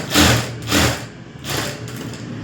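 Sewing machine stitching a simple neck design, running in three short bursts of close, buzzing mechanical whirring with brief pauses between them.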